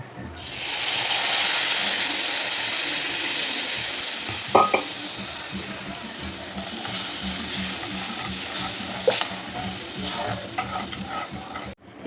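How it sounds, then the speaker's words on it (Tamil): Tamarind water pours into a hot pan of spiced oil with turmeric, chilli powder, coriander and asafoetida. A loud rushing sizzle bursts up, then settles into steady bubbling hiss broken by intermittent clanks of stirring. "இப்போ இந்த புளி கரைசலை ஊற்றிக்கலாம்"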